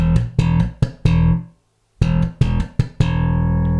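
Punchy slap bass riff on an electric bass, with sharp percussive note attacks in a syncopated pattern, a brief pause midway, then the pattern repeating and ending on a ringing sustained note.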